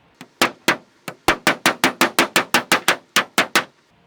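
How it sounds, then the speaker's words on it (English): Flathead screwdriver hammered at an angle into metal furnace ductwork: a loud, close run of about sixteen sharp ringing strikes in a fast, slightly uneven rhythm with short pauses, no voices. "I'm basically just gonna hammer it at a 45-degree angle"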